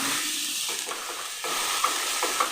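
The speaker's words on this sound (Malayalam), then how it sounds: "ഇനി ഇതിലേക്ക് നമ്മൾ ചോപ്പ് ചെയ്തെടുത്ത സവോള ചേർക്കും നല്ല പോലെ ഒന്ന് മിക്സ് ചെയ്തെടുക്കും" Chopped onion tipped into a hot pan and stirred while cooking, giving a steady close sizzle and hiss with soft scraping stir strokes and a couple of small clinks.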